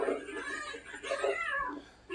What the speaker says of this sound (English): This cat, dude.